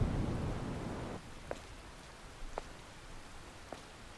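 Rain falling in the video game Stellar Blade, a soft steady hiss of rainfall with a few faint isolated drips or splashes, quiet and without voices.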